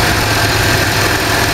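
A car engine idles steadily at about 1500 RPM with the AC compressor engaged, giving a constant, loud, close hum and whir with no breaks.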